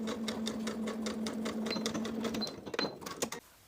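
A sewing machine stitches in the ditch along the side seam and facing of a box-pleated skirt, a steady rapid whirring run of needle strokes that slows and stops with a few uneven final stitches, heard alone and close.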